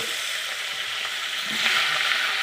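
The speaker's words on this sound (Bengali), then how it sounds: "কড়াইটা গরম হওয়ার পরে এক এক করে মাছগুলো সব ভেজে নেবে" Hilsa fish frying in hot oil in a wok, a steady close sizzling hiss that swells slightly louder toward the end, with no voices.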